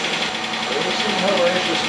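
A rebuilt GM 3400 V6 idles steadily with a faint, light valve tapping mixed into the continuous engine hum, heard close up and without talk.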